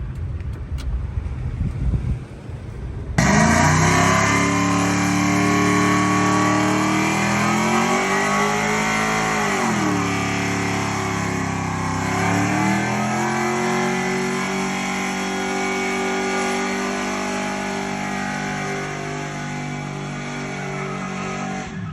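A truck's 6.0 LQ4 V8 engine bursts to life and revs hard, its loud, close roar rising and falling through several swells before settling into a steady high drone.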